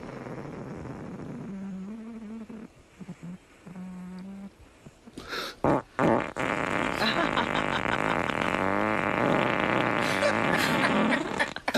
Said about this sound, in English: I've never heard such farting